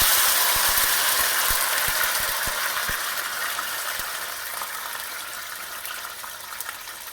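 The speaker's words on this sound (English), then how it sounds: "When the oil hits the tomato, it needs to fry" Tomato hitting hot oil with golden garlic in a pan over a high flame, a loud steady sizzle that slowly fades, with a few sharp ticks and pops early on.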